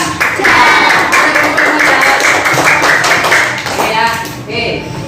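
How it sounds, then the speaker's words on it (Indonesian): A crowd applauds Indira, named second-place winner at a computational thinking and coding session, with dense, steady clapping for about five seconds that thins out near the end; a voice is audible under the clapping. "Tepuk tangan untuk Indira."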